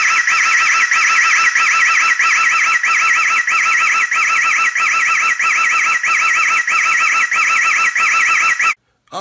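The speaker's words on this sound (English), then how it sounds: "I'm going to show you what it sounds like with the alarm going off at the same time" Siren alarm from an Imou Cruiser security camera, a loud, piercing electronic wail warbling rapidly up and down without a break, cutting off abruptly near the end.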